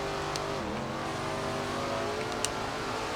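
Super-late model race cars roar steadily around a Florida speedway, a dense, continuous engine drone heard from onboard with pitch shifts as the car slides and corners.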